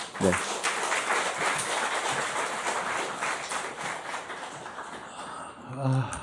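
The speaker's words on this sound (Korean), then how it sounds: "우리 큰 박수로 한번 우리가 환영하는 시간 갖겠습니다" A church congregation in Osaka claps to welcome a guest, a dense, even wash of applause filling the hall before a voice resumes near the end.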